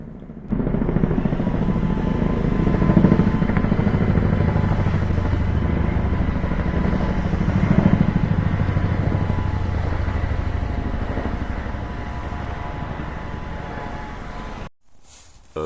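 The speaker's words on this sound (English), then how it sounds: "two Chinooks flew over our heads" Two Chinook helicopters passing overhead in North Wales, a loud continuous rotor thump and engine roar that swells and stays strong before cutting off abruptly at the end.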